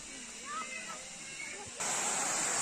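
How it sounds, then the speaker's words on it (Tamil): Steady rushing water hiss of a waterfall at Kolli Hills, loud and continuous, growing stronger toward the end with faint voices of bathers underneath. "சூப்பராக மாசுல அருவி சூப்பராக கொட்டுது பாருங்கள்"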